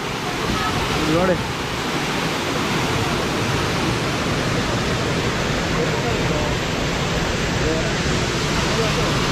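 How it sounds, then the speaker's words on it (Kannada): Water rushing hard at Harvalem waterfall in South Goa, a loud, steady broadband roar filling the whole clip, with a brief voice speaking over it near the start. "ತುಂಬ ಹಾರ್ಷಾಗಿ ಹರಿತಾ ಇದೆ ನೀರು"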